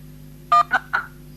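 Three short electronic beeps from phone keypad buttons, one after another, over a faint low hum.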